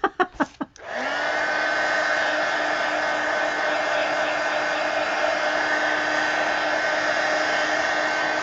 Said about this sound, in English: All right, so let's dry this.